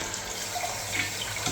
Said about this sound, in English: sounds sort of like water's running